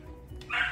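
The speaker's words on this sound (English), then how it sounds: "Sorry if you hear my dog barking in the background." A pet dog barks indoors, a short burst of yipping rising loud near the end, heard alone without talk.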